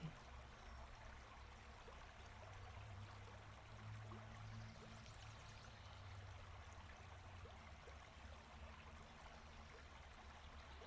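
Gentle riverside water flowing steadily, a soft continuous trickling and babbling at low level with no voices.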